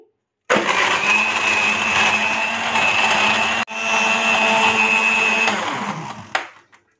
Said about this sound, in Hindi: हाई स्पीड पे इसे अच्छी तरह से ब्लेंड कर लेंगे